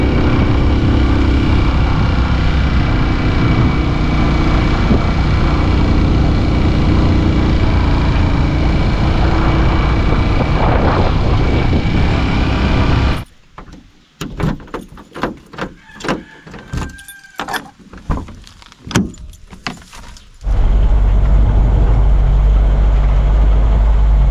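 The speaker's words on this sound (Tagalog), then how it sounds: "Sakay tayo ng motor kasi mainit yung panahon." Motorcycle ride with a steady engine drone and wind noise throughout. A stretch of choppy buffeting and clatter interrupts it midway before the steady drone returns.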